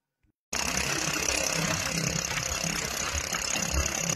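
A motorcycle engine fitted with an old silencer starts up after a brief silence and runs with a rough, throaty idle, steady and fairly close.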